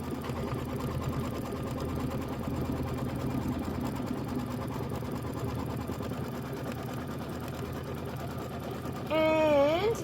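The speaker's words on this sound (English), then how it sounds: "while it's stitching this down, I'm going to kind of smooth the fabric" A Kimberbell embroidery sewing machine stitches fabric in a hoop with a steady, rapid mechanical whir and needle patter throughout, close and even, ending in a brief higher-pitched tone, with no words spoken.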